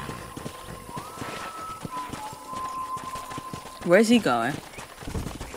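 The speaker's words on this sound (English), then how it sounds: "All right, mount your horse." A horse gallops in Red Dead Redemption with steady, rhythmic hoofbeats running under a voice, and a louder vocal burst comes near the end.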